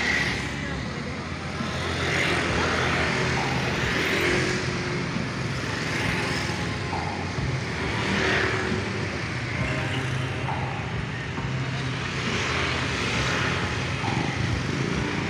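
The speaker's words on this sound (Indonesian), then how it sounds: "Terlihat kendaraan ramai lancar ya, dipadati oleh truk-truk ya" Busy night road traffic on a main road in Leuwiliang, Bogor, after rain, with trucks, cars, minibuses and motorbikes passing in a continuous rumble and repeated swells of nearby engines.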